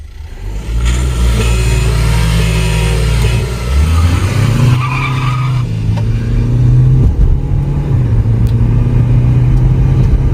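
Hyundai Verna 1.6 and Volkswagen Polo 1.5 launch side by side in a drag race, engines roaring loud and close with rising revs through several gear changes over ten seconds.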